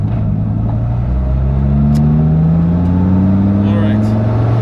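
Dodge Viper with a manual transmission in second gear pulling back up to speed, a loud low engine drone rising steadily in pitch, with wind and road noise inside the cabin.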